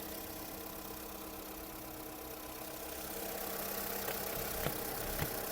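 A Volkswagen Golf 5 with a 1.4 MPI naturally aspirated petrol engine idles steadily with a low, even hum, growing slightly louder toward the end, with a couple of faint clicks near the close.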